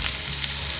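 Ginger and onion sauté in a pan for baingan bharta, a brief, even, close sizzle with no talk.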